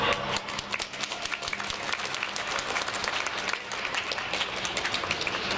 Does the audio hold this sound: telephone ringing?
no